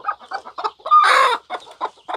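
Native Siruvidai chickens at a Namakkal farm cluck in a quick run of short, close calls, broken once by a louder drawn-out squawk, with no talk.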